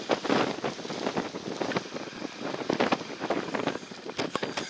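Wind gusting over a Norwegian island, a steady rough roar with buffeting surges against the microphone, loud and close throughout without talk.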